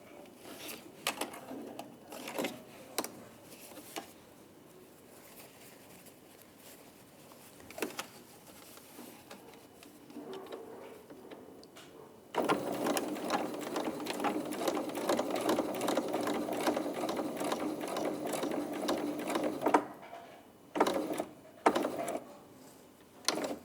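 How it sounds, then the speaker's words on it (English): A sewing machine stitches small teddy bear outfit pieces with a quarter-inch seam, running in short start-stop bursts before settling into a long steady whir, then pausing and running briefly again. "we're going to stitch in these little pieces here. Using our 1/4 inch seam allowance."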